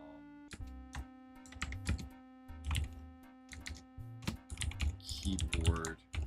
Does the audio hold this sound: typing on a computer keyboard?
yes